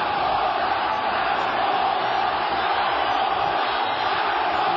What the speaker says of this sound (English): You hear the crowd chanting for Zaragoza, Zaragoza.